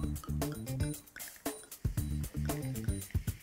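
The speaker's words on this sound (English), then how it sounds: "We're going to finish this off with a shot of bubbly." Sparkling wine is poured into a passion fruit martini, giving close, bubbly trickling and dripping with small fizzing splashes in uneven bursts.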